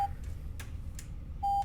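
Electronic keypad tones from a horror video game as a code is entered, a few short spaced beeps with a steady tone at the start and end over a low background hum.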